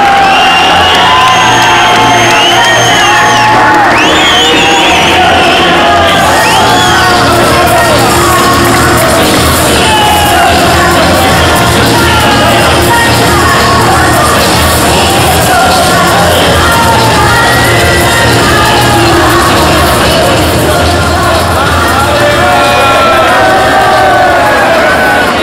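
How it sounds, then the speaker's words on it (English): Large crowd at a university sports gala closing ceremony cheers loudly, with whoops, yells and shouting children, a sustained dense roar that holds steady throughout. "you should honor him with the same huge round of applause, Mr. Abu Zar Ahmad"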